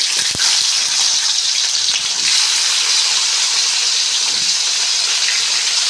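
Mustard seeds, cumin and onions sizzling in hot oil while cooking an aloo fry, a loud, steady, close hiss with a few crackles and pops near the start.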